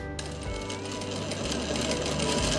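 A sewing machine top-stitches a coat collar with a loud, rapid mechanical chatter. The stitching runs steadily in close bursts with brief slowdowns, and no voice is heard.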